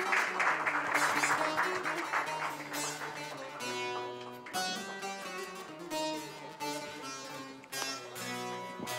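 An audience claps to welcome stage actress Selda Asan, a dense burst of applause lasting a few seconds before tonal music with sustained notes takes over.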